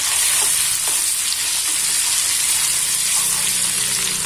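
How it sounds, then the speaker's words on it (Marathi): Puri masala sizzles steadily in hot oil with cumin powder and ginger-garlic paste, a continuous close frying hiss with faint stirring scrapes and no talking. "जिरे पावडर पेंट आलं लसूणचा पेंट टाकलेला घेत आहे"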